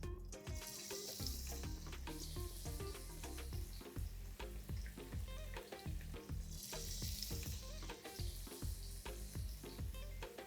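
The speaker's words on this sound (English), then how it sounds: "And to this, let's add in the pieces of paneer." Paneer pieces frying in oil with whole dried red chillies, a steady sizzle broken by rapid, rhythmic clatter and tossing against the pan, fairly faint overall.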